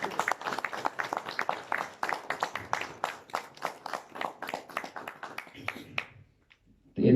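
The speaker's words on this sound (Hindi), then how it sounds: "तुहाडी भरपूर तालियां दे विच अज दे मुशायरे की सदारत करनगे जनाब बाबा गुलाम हुसैन नदीम साहब।" Audience at a Punjabi mushaira poetry gathering claps steadily for about six seconds, a dense rhythmic applause that fades out at the end.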